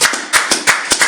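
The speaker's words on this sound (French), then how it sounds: "Quelqu'un peut applaudir le Seigneur" A church congregation clapping during a service, loud close handclaps in a quick uneven rhythm, about seven sharp claps in a second with no speech over them.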